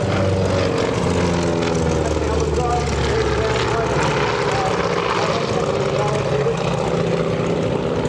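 A propeller-driven warbird rescue seaplane drones past at an airshow, its engine a steady, loud, continuous rumble over a public-address announcer talking.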